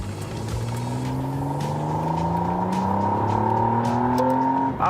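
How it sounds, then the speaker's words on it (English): A hybrid car drives with a continuous engine and motor drone, its rising tones sweeping upward as it accelerates, loud and close throughout without talk. "since this is a hybrid car, you can definitely feel the electric motor kick in"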